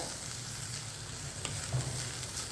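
Carom seeds (ajwain), crushed by hand, sizzle in hot oil in a pan as they are sautéed, a steady soft frying hiss with faint stirring, no voices.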